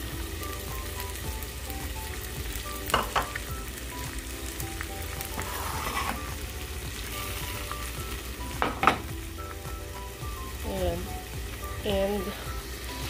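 Garlic fried rice and eggs sizzle steadily in a pan, with close stirring scrapes and a couple of sharper clatters, and faint voices briefly underneath near the end.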